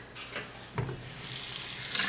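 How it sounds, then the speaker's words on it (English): Cold running water splashes steadily from a tap, with a brief soft knock as cabbage and other greens are rinsed under the stream. "We're gonna rinse all of our greens"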